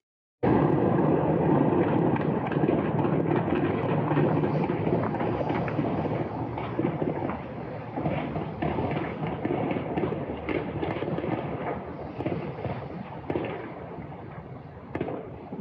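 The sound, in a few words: gunfire and shelling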